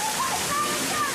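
Heavy water splashing and sloshing across an obstacle course on the Splatalot game show, a dense continuous rush under a commentator's voice.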